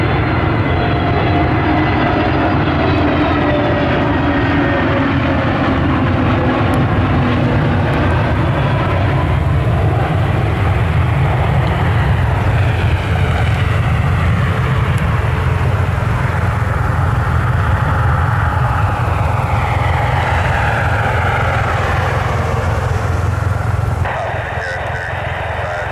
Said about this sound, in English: Heavy jet time up here in Cleveland, Ohio, as it starts to rain.